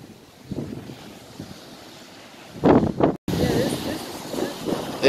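Ocean waves washing onto a beach, a steady surf wash under wind buffeting the microphone, with people talking over it nearby.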